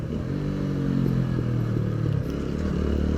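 A TVS Apache motorcycle rides along a road near the Goa–Maharashtra border. Its engine gives a loud, steady, close-up drone with a throaty low rumble and slight surges throughout.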